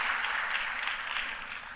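An audience at a renewable energy conference and expo applauds the French Ambassador, with steady, even clapping throughout the brief moment.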